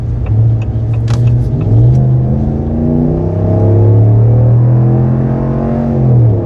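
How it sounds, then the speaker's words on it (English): A big 2026 RAM 1500 HEMI V8 pickup engine revs loud and close, its deep throaty rumble rising and falling through steady accelerations, no voices. "There you go, you got that nice HEMI sound"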